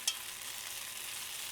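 Rinsed, loose noodles hit a hot pan with a brief clatter, then a steady, even sizzle hisses on alone.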